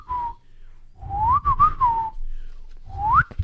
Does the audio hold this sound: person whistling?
yes